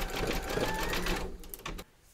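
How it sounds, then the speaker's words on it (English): An embroidery machine zigzag stitches a hooped piece of a sewing project, a fast, close mechanical whirr running steadily before stopping abruptly near the end. "Pop your hoop into your machine and stitch round number 15, and that's going to zigzag along here and join the two segments together."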